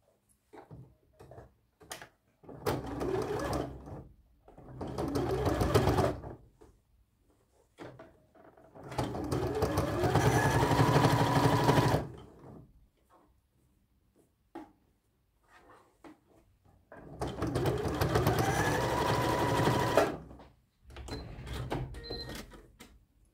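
A sewing machine stitching a pocket onto children's jogging trousers runs in several bursts of a few seconds each, with a steady close whirring hum and quiet clicks and handling noises between runs.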